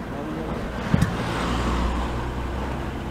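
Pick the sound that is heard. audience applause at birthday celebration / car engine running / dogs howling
car engine running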